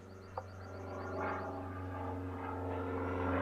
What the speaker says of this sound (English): Airplane.